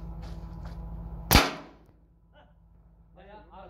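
An air rifle pellet strikes a metal sheet at a 20-metre outdoor target range in a single sharp, ringing crack, followed by a fading clang and faint voices.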